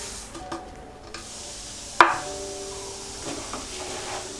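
A spoon stirs sesame seeds with sliced cashews and pistachios in a pan over a low flame for sesame chikki, a soft dry scraping with a faint sizzle and one sharp clank of utensil on metal partway through.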